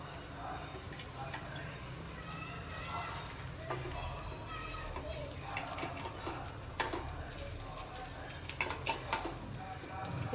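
Appe being lifted out of an appe pan with a utensil: quiet metallic clinks, scrapes and ticks scattered irregularly, while someone talks throughout.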